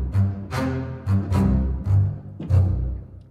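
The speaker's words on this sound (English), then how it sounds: "So and then we have the spiccato." Spiccato strings from the 8Dio Century Ostinato library play a bouncy ostinato of short, detached bowed notes in rhythmic bursts, with a warm low end and moderate room ambience.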